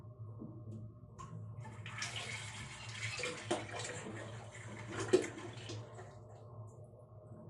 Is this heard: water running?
yes